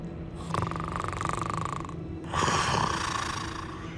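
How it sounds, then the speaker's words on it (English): A goblin banker snores inside Gringotts bank in Hogwarts Legacy, two drawn-out rasping snores, the second louder and rougher, over a low humming background with no talk. "Yeah, goblin banker snoring."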